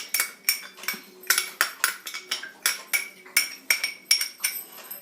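Dates, black raisins, almonds and cashews are stirred together in a bowl, giving a rapid run of sharp clinks and knocks of a spoon against the dish, about three per second, close and clear.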